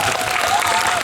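Brief burst of studio audience clapping at a live talk event for the film 오빠생각 with Im Si-wan, dense and steady, with a faint cheer mixed in.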